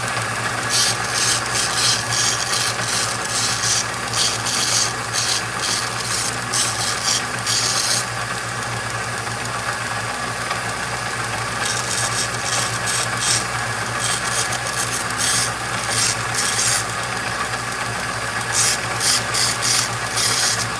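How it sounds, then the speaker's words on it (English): Sandpaper scrubbing brass dog tags in a garage, a rhythmic series of rasping strokes in bursts, close and steady over a constant low background hum. "Look at got the sandpaper."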